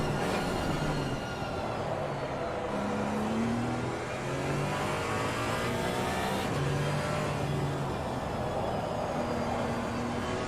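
A Porsche race car on a lap of the Nürburgring in Gran Turismo 4 drones continuously, its engine note rising and falling through gear changes, loud and sustained.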